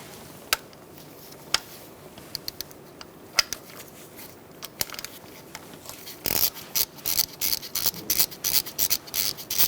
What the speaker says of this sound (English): Then you're going to use a 10mm socket and unbolt